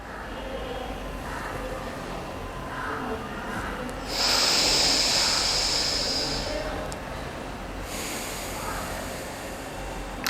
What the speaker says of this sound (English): Exhale very slowly through right nostril.